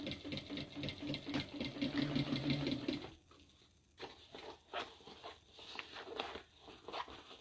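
Home sewing machine stitching a small fabric tote bag, a steady mechanical whir with rapid needle patter that runs continuously, pauses briefly, then resumes in short uneven bursts, close and moderately loud.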